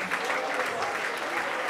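A church congregation claps continuously in praise, a dense, even wash of many hands at moderate volume, with faint voices mixed in underneath.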